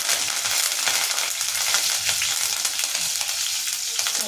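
Cumin seeds and curry leaves crackling and sizzling steadily in hot oil for a Naati-style chicken fry, a close, continuous bright frying hiss with no voices.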